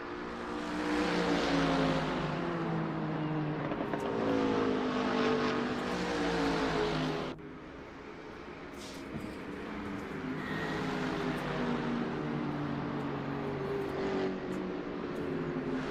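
Race cars screaming around a track in a GT e-motorsport championship sim race, high-revving engines with rising and falling pitch as gears shift, loud and continuous, several cars overlapping, with a sudden change partway through.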